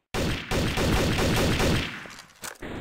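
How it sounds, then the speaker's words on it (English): Rapid bursts of gunfire in the video game Trouble in Terrorist Town crackle loudly in quick succession for about two seconds, then trail off into a few scattered shots. "I hear gunshots at the front of the church."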